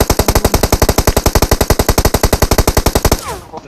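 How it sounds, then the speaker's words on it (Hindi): Rapid automatic gunfire in PUBG Mobile, a loud, close, unbroken burst of evenly spaced shots lasting about three seconds before stopping abruptly. "पत्थर के पीछे गोलियां कहां से पड़ रही हैं समझ नहीं आ रहा।"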